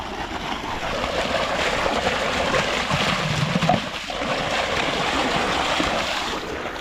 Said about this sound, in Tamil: தண்ணி ஃபுல்லாக பாஞ்சிச்சு.